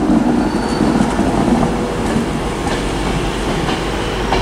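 A Class 390 train arriving at Manchester Piccadilly station from London Euston, a loud continuous rumble with faint wheel clatter and occasional squeals, heard close on the platform.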